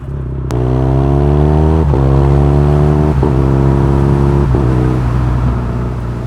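A motorcycle engine revs hard and close, loud rising pitch sweeps in repeated bursts with short dips between gear-like surges, no talking over it.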